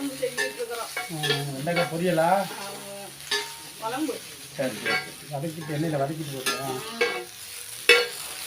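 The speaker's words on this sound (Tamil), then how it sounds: "சட்டி நல்லா சூடாயிடுச்சு வெண்டைக்காய் வதக்கி எடுத்துக்கலாம்" Okra is stirred and sautéed without oil in a hot pan, giving bursts of sizzling and scraping in uneven strokes while a person talks over the cooking.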